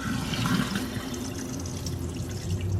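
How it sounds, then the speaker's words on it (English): Water gushing from a punctured water balloon into a sink, a steady close splashing pour lasting throughout, loud and unbroken, with no voices. "I'm going to poke a hole and aim it towards the sink and hope that the water flows into the sink"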